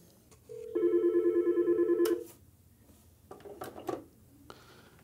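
A Yealink T41/T42 desk phone rings for an incoming call with a steady warbling electronic ring tone lasting about a second and a half, followed by a few soft handset clicks and clunks as it is picked up.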